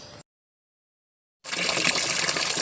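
Water from a solar-powered submersible pump set about 40 feet deep bursts out in a loud, steady gush after a brief splash and a second of silence, rushing continuously at close range.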